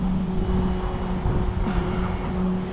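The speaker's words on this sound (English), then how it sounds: "So I'm hearing the cars go by me." Cars passing through a signalized intersection on 4th Street, a steady broad road rumble with a low engine hum running throughout and no distinct single pass-by standing out.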